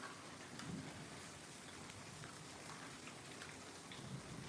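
Steady rain falls outdoors during a winter shower, a faint, even patter with an ongoing wash of drops and no voices.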